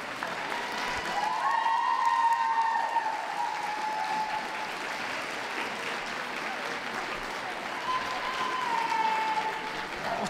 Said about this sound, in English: A round of applause to those leaving the ring